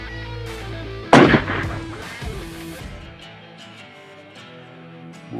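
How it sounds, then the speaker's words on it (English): A single sharp rifle shot cracks out during a hunt in Australia's Northern Territory, followed by a booming echo that rolls away over a couple of seconds against low background music. "That's the perfect shot."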